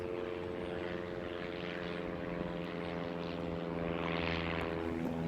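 Single-pilot propeller plane drones overhead, a steady harmonic engine hum with a faint rising rush toward the end as it passes, fairly distant and with no one speaking.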